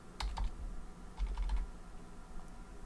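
Typing on a computer keyboard while salary figures are entered into a retirement planning dashboard, two quick bursts of close clicking keystrokes with a short pause between.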